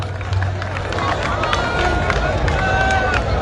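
A crowd of Christians and Muslims mills about at an outdoor public debate on God, a steady babble of many voices with footsteps and movement, close and busy throughout.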